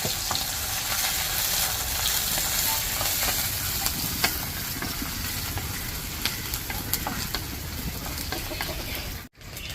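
Washed dried prawns frying in hot coconut oil, giving a dense, steady sizzle with soft crackles and occasional stirring scrapes, close and continuous without pause.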